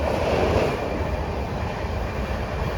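An Amrit Bharat Express train rushes past at speed, a loud steady roar of wheels and rushing air filling the whole stretch without pause.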